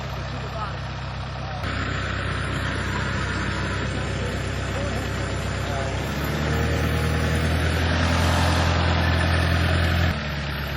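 Tractor engine running steadily outdoors while a fence post is being pounded into the ground, a loud continuous low rumble that grows heavier near the end, with voices talking over it.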